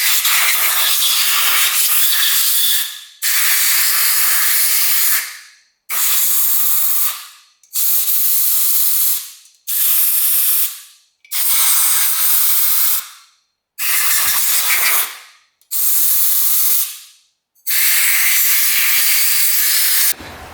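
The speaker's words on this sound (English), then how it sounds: "Now we're going to blow this out with the air compressor." Compressed air blasts out the cylinder of a rare 1960s Ducati scooter, loud hissing bursts of about two seconds each, nine in a row with short silent gaps, no talk.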